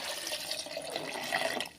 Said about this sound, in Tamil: இப்போ தேவையான அளவு தண்ணி சேர்த்துக்கிறேன்